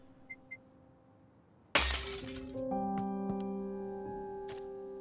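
Glass shatters loudly and suddenly during a break-in in the video game Gerda: A Flame in Winter, a sharp crash followed by ringing, sustained tones and a few scattered clinks, preceded by two faint ticks in a quiet room.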